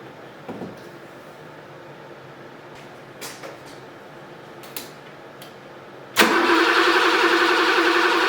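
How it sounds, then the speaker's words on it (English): Several short mechanical clicks and knocks, then the engine of a 42-year-old BMW E24 635 CSi cranks and catches, settling into a loud, steady run. "Now I put the relay back in and try to start the engine."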